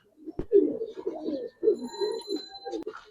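A pair of Giribaz pigeons coo close by in soft, low, rolling phrases, several overlapping bursts with brief pauses and a couple of sharp knocks in between.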